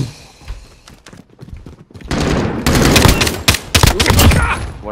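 Bursts of rapid gunfire in Call of Duty: Modern Warfare, sparse shots at first, then dense, loud automatic fire with heavy recoil thumps, no talk over it.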